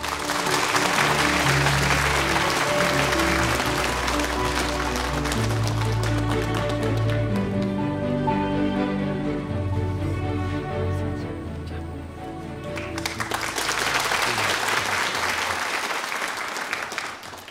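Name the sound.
audience applause at an awards ceremony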